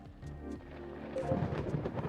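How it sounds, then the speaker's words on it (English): Thunderstorm with steady rain in the video game Coffee Talk 2, a low rumble of thunder rolling under a continuous wash of rainfall, moderately loud and swelling toward the end. "What a storm."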